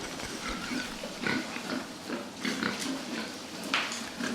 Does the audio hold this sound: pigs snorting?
yes